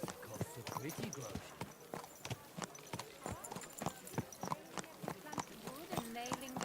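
A horse's hooves clop steadily over hard ground in Kingdom Come: Deliverance 2, the sharp regular strikes sounding close and rhythmic. Someone talks over the hoofbeats.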